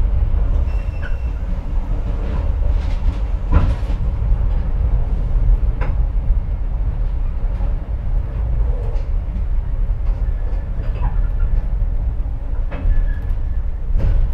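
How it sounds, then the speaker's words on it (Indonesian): Batu Raden Express passenger train rolling along with a loud continuous rumble, occasional clunks and joint clicks, and faint tonal squeals, heard from inside at close range. "kereta api Batu Raden Express ini akan berhenti di stasiun Cirahayu untuk menunggu bersilang dengan kereta api ekonomi"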